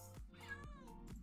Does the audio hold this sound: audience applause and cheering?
no